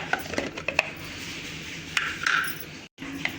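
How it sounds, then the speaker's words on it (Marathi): An onion is finely chopped for homemade bhel, giving a rapid, close stream of sharp knife clicks and clatter on a board. The chopping runs steadily, with a brief gap near the end. "दोन मिनिटात बारीक होतो कांदा"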